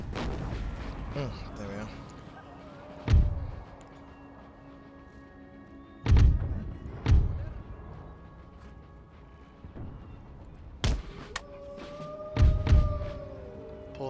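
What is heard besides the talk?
artillery fire in Empire: Total War mod video game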